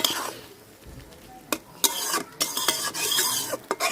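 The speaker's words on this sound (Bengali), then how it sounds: "গরম মশলা গুঁড়া দিয়া একটু নাড়া দিয়েই নামাই দিন।" A spoon stirs katla fish curry with garam masala in a pan, making scraping and clattering strokes in uneven bursts over a soft sizzle, close and fairly loud.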